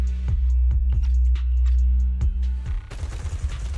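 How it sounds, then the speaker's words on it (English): Rapid bursts of video game gunfire from Zenless Zone Zero, with repeated sharp booming shots and heavy low thumps, then a denser crackling barrage near the end, loud and close with no talk. "gunfire erupts like a relentless downpour"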